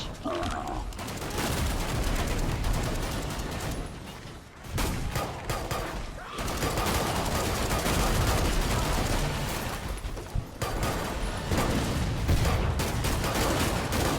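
Sustained automatic gunfire in the zombie-shooter game Killing Floor 2, dense near bursts running almost without pause, with brief gaps between volleys and faint speech underneath.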